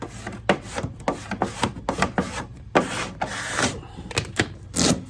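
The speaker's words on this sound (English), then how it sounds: "I'm going to squeegee out from the center" A squeegee is pushed out from the center across a vinyl decal, giving soft, quiet rubbing strokes in an uneven rhythm, each swipe a short scraping drag.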